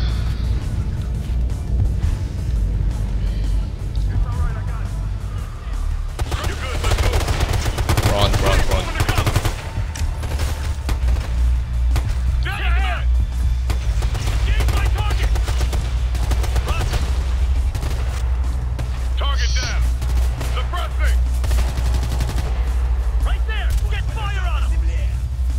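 Dense rapid gunfire rattles continuously through a firefight in the shooter game Ghost Recon Future Soldier, with bursts of automatic weapons and occasional heavier reports layered over a constant low rumble, and a player talking in places.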